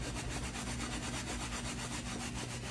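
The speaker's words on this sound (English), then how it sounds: "I'm gonna scrub it just a little more" Steady, continuous scrubbing of a cast iron pan being cleaned and seasoned, a dense rhythmic rubbing close up and alone without talking.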